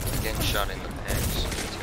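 Shotgun fire in Disjunction, a 4v4 first-person shooter match, with two shots among dense game noise and a voice talking throughout.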